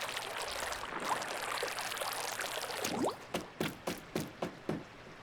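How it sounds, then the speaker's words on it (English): Flowing water in the Splatoon 2 video game: a steady rushing stream, then a rhythmic series of about seven short splashy pulses, moderately loud with no talking. "Yeah, there's the water."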